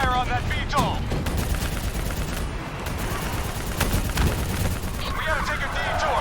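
Sustained automatic gunfire and explosions from the Call of Duty Black Ops 3 PC campaign, a dense battle fight against a VTOL, with shouted voices over the constant rattle of weapons.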